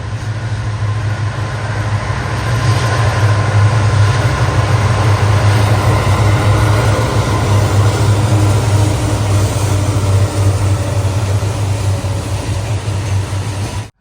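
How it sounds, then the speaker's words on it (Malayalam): A goods train rumbles past on the Mumbai to Mangaluru line, a loud, steady low roar of wagons rolling by nearby with continuous rail noise throughout. "ഏതോ ഒരു ട്രെയിൻ വരുന്നുണ്ടല്ലോ"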